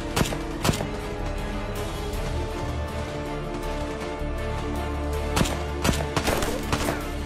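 Sustained gunfire in a TV series battle scene: dense automatic bursts and scattered single shots ring out continuously, with a few sharper, louder cracks near the end over a constant rumbling background.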